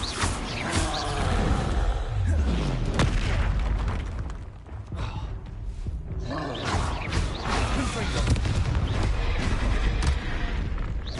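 Spell blasts from Repulsor and Confringo cast in Hogwarts Legacy, heavy booming bursts and impacts rolling continuously over a dense battle soundscape, loud and close.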